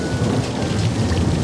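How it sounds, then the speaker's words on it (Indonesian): Heavy rain pours down with a deep rolling rumble of thunder underneath, loud and close, filling the whole moment. "terjadi hujan badai dan petir menggelegar, dan Duke terus menggonggong"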